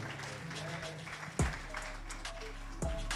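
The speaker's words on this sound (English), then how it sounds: "Keep the applause going" Applause from an audience at the close of a panel discussion at a media exhibition sounds as a continuous wash of many hands clapping. A voice talks over it, and a couple of sharp thumps stand out.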